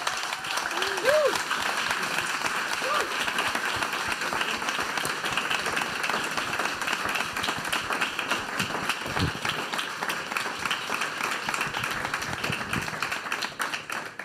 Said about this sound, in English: please, everyone, give this man a round of applause.